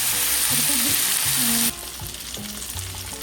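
Cashews fry in hot oil in a pan for a butter paneer curry, a loud, close sizzle that drops sharply partway through, with stirring sounds and faint voices underneath.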